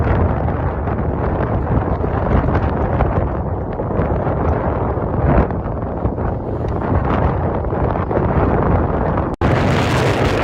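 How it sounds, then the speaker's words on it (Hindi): Very strong wind roars across a golf course, buffeting the microphone in a constant loud blast that ends with a sharp cut. "बहुत ज़्यादा तेज़ हवा चल रही है।"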